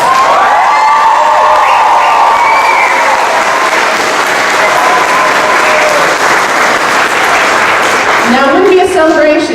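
A graduation audience applauds and cheers for the class of 2017, dense sustained clapping with whoops and shouts spread through a large crowd, loud and steady throughout, while a voice carries over the top near the end.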